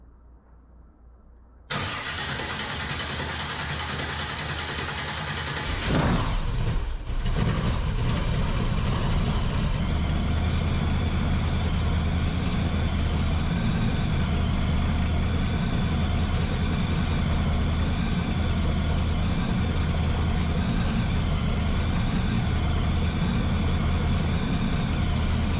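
A 1972 Opel GT with a fuel-injected 540 big block and 871 blower cranks briefly, then fires into a loud, steady, rumbling idle that carries on unbroken with a lumpy low throb.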